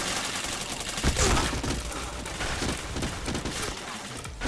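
Rapid gunfire from an online shooter game rattles continuously through the clip, dense bursts with a louder spike early on, with no voices.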